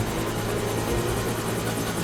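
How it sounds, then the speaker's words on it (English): Helicopter in the James Bond 007: Blood Stone video game, a loud continuous rotor thrum with rhythmic chopping blade pulses filling the whole moment, close and unbroken. "Helicopter inbound."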